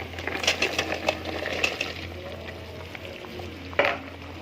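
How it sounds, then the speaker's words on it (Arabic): Okra sizzles and fries in a pot with a steady, close frying hiss, broken by occasional clinks and stirring knocks, one sharper clatter near the end. "هنزل بقى بالباميه بتاعتي"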